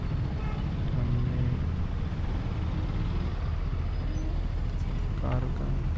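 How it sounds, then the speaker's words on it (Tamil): Road traffic in Chennai at night heard from a moving motorcycle: a steady, loud engine and road rumble with passing vehicles and a brief horn-like tone near the end. "டிராஃபிக் இங்கேயே ஆரம்பிச்சிருச்சு"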